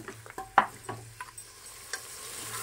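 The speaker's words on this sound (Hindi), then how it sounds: "अब गोश्त को हमें फ्राई कर लेना है प्याज के साथ" Beef frying with onions in a pan for a traditional salan, with a soft, low sizzle broken by several scrapes and clinks of stirring, close and quiet, and no voices.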